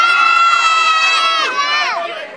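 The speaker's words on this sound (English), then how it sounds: "I want you to cheer really loud for Princess Catherine and Prince William." A large crowd of children at a 2011 royal wedding party cheers and shouts loudly for Princess Catherine and Prince William, a bright, sustained burst of young voices that tails off toward the end.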